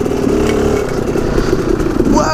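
A motorcycle engine revs hard and steadily, loud and close, with a clattering mechanical edge and a rising whine near the end; a rider's voice is faintly mixed in.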